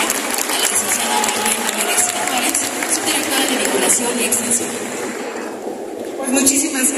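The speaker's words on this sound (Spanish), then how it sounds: "Aplausos, por favor." An audience at a formal event applauds with a dense, loud, sustained wash of clapping that eases slightly near the end, with voices mixed in.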